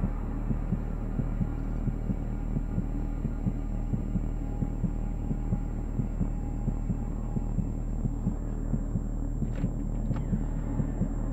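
Steady, looping heartbeat sound effect from the horror video game The Quarry, regular low thumps pulsing throughout over a constant hum, with faint game ambience rising near the end.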